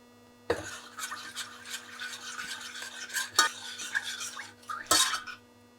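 Coconut milk poured into a pan and stirred while cooking Cambodian fish amok, giving soft scraping and clinking of a utensil against the pot in irregular strokes, fairly close, with a steady low hum behind and no talking.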